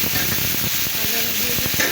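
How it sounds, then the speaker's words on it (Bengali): Native coriander leaves frying in hot oil for a bhorta make a dense, continuous sizzle, broken by short scraping stir noises and a faint voice in the background. "এখন আমি দেশি ধনিয়া পাতাগুলো ভেজে নেব"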